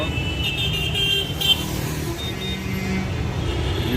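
Cars and motorcycles idle and creep in a long midday traffic jam near a metro station, a steady low engine rumble with occasional faint horn toots, no talk.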